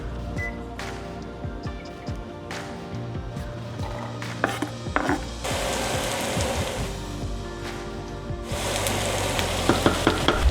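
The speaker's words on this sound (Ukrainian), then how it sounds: "Першим ділом обсмажуємо цибулю" Chopped onion frying in a pan, a close sizzle that swells and fades as it is stirred, with scattered clinks and scrapes of a utensil and a louder hiss toward the end.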